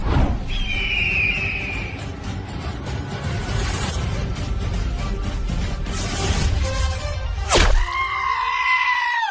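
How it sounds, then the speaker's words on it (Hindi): Loud, shrill squealing and bleating cries from wild boars rampaging through a crop field, a continuous noisy stretch with a sharp squeal near the end and rising cries after it, no talk. "बालवीर, इन जंगली सुअरों को कुछ कर दो बालवीर, प्लीज बालवीर।"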